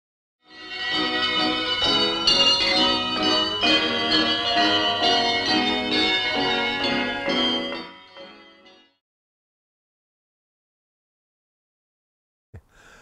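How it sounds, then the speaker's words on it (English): Handbell ringers play handbells in the pre-1866 upright manner, bright overlapping peals that ring continuously for about eight seconds and then fade to silence, followed by a brief knock near the end. "The Royal Poland Street handbell ringers seen here were playing the bells in the pre-1866 upright manner"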